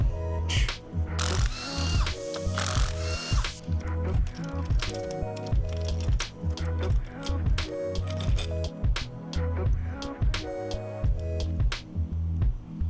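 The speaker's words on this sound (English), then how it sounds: "we're going to go ahead and remove our Vtec solenoid here" Ratchet working on the VTEC solenoid of a 2001 Honda Prelude H22A engine, rapid clicking pawl bursts in repeated strokes, close and crisp, with brief pauses between runs.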